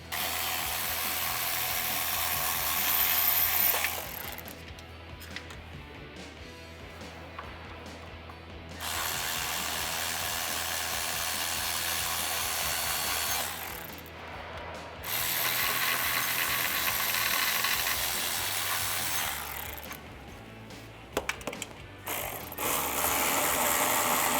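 A ratchet wrench works transmission bolts loose on a 1996-2010 Mustang GT. There are long runs of rapid, close clicking, broken by short pauses between bolts, with no talking.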